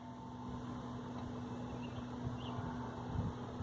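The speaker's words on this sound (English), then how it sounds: "That's at full throttle." Small motor of an RC seagull kite plane at full throttle, a continuous droning buzz heard from a distance outdoors under wind rumble.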